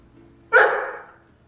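A single sharp dog bark, close and fairly loud, ringing out alone in a quiet room during bark-on-command training.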